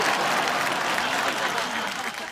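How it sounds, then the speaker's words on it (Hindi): Loud, dense audience applause at a television award ceremony, a continuous wash of many hands clapping close by for the whole stretch. "जोरदार तालियां"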